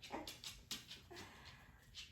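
Puppies whimper and yip softly in a room, several short high whines rising and falling in quick succession over steady low background noise, fairly faint.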